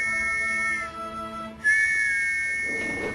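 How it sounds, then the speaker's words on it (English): Thomas the Tank Engine whistling in his sleep, a high steady whistle tone that holds, dips briefly, then rises again in a sustained note. "when Thomas fell asleep, he started to sleep whistle"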